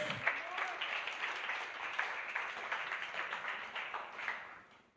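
Church congregation claps together in a brief, moderately faint burst of applause during a sermon, dense and steady before fading out toward the end.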